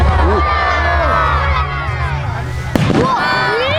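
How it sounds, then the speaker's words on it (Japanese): Fireworks launch and burst close by at the 2017 Takasago city fireworks festival in Japan, with whistling shells rising and one sharp, loud bang, while a crowd murmurs and people talk nearby. "じゃあ花火飛ぶから気をつけろ。"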